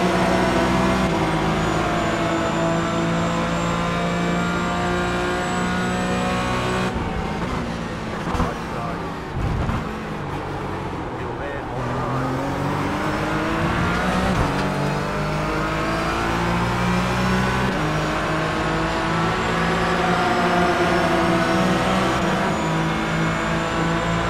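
A BMW GT4 race car's engine drones loudly and continuously around Sebring in a racing video game, holding steady high revs with brief dips as it lifts and shifts, then climbing again.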